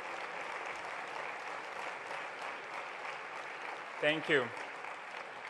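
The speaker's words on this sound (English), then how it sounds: "one more round of applause for our NEF Fellows" Audience applause for the NEF Fellows at a presidential panel session, a steady sheet of clapping throughout, with a speaker briefly offering thanks near the end.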